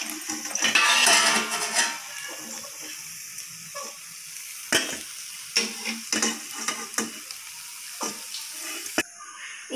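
Bird nest bites frying in oil in a pan, with a steady sizzle broken by sharp clicks and knocks of utensils and pan handling, fairly close and moderately loud, with no talking.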